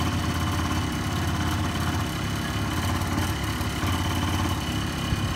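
A two-stroke automatic motorcycle engine idles close by with a steady, buzzy low rumble and faint vibration, holding an even level throughout with no talk over it.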